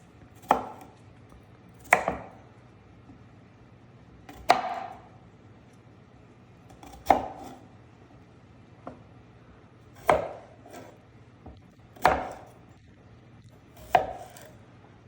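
Knife chopping food on a cutting board, about nine sharp, separate chops spaced a second or two apart, close and distinct over a low steady background hum, with no talking.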